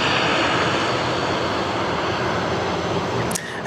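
An airliner takes off from runway 16 right at Sydney Airport. Its engines give a loud, steady broadband roar throughout, with no talk, and the sound shifts abruptly near the end.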